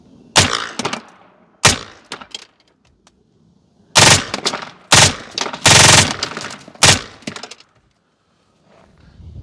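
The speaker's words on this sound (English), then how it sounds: "This is an HK MP5K with a Huxwrx Cash 9." Suppressed HK MP5K submachine gun fitted with a Huxwrx Cash 9 suppressor firing at an outdoor range: several loud short bursts and single shots separated by pauses, each with a sharp crack and brief echoing tail.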